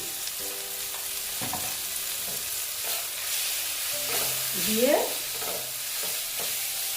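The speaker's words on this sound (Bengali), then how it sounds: "একটু নেড়ে চেড়ে নিচ্ছি এটা প্রায় ভাজা হয়ে গেছে" Chili powder and turmeric fry in a pan for Bengali boal fish curry while being stirred, with a soft sizzle and repeated scraping strokes; a voice briefly says a word.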